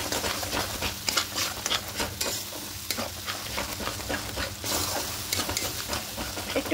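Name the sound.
spice masala being stirred and mixed in a pan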